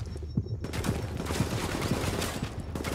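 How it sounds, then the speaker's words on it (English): Enemy gunfire in the third-person shooter Tom Clancy's The Division, a steady stream of quick cracking shots over a rumbling background, moderately loud and continuous across the whole stretch. "She's still just shooting perfectly at me."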